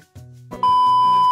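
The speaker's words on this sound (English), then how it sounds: "My alarm clock." An alarm clock sounds with a loud, sustained electronic beep that starts after a brief low buzz and holds steady to the end, alone and close.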